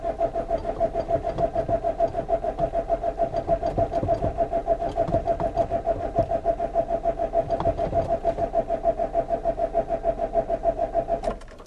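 A Renault Master 2 van with a 2.5 D diesel engine cranks steadily without catching, a loud, rhythmic starter churn that repeats continuously for about eleven seconds and then cuts off.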